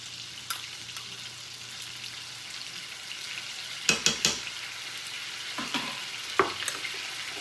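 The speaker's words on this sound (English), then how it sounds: "The smoked sausage is browning up nicely, so to that I'm going to put in about 3 cloves of garlic." Smoked sausage and garlic sizzle in a pan as a steady soft frying hiss, broken by a few sharp utensil clicks and stirs near the middle and end.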